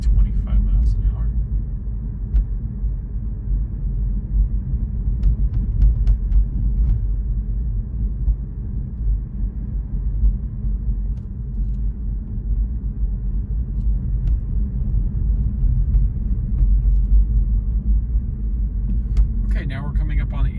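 Car rolling at about 25 mph through a residential Orange County neighborhood at night, a steady low road and engine rumble throughout with no clear speech.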